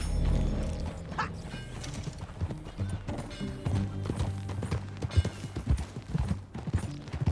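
Rhythmic horse hooves clip-clopping at a steady trot in Red Dead Redemption 2 on PS5, layered over a dense mechanical background with low rumble.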